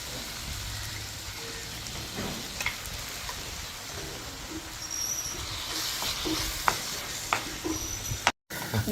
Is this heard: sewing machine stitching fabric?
no